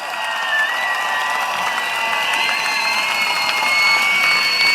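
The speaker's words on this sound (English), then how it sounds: "Please give them a big round of applause." A crowd at an outdoor political rally claps and cheers for parents, steady applause mixed with shouts and high whistles that hold loud and sustained throughout.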